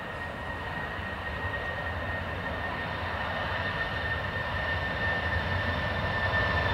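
An airliner lands at Dublin Airport under heavy reverse thrust, a loud, steady broadband roar with a sustained whine that holds and swells slightly across the whole stretch, with no voices.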